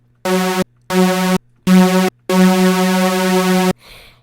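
Four buzzy, thick sawtooth synth chords with added unison voices in a stop-start rhythm, the last held longer, followed by a brief noisy tail.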